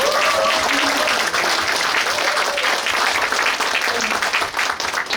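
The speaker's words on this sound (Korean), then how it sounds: "저희 고생한 보좌진들에게 고생했다고 박수 한 번만 부탁드립니다" Sustained applause from a crowd at a lawmaker's legislative report meeting in Suncheon, South Korea, dense steady clapping filling the whole stretch without pause.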